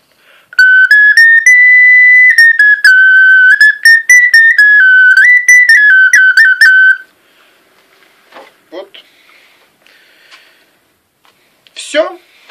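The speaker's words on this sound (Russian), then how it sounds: "вот эта милейшая свистулька, у которой есть четыре ноты" A small folk whistle with four notes plays a clear, shrill melody for about six seconds, stepping between a few pitches. Afterwards, faint talking and light handling noises follow.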